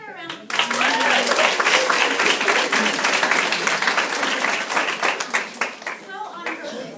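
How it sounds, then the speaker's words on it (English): An audience claps and applauds loudly at a self-love empowerment event, a dense, sustained burst of many hands that starts abruptly and thins toward the end, with a few voices underneath. "Let's give her a round of applause."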